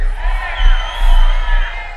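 Crowd of Bahia football fans roaring and cheering at a live pagode show, a sustained mass of voices with swelling peaks and heavy low-end rumble from the venue.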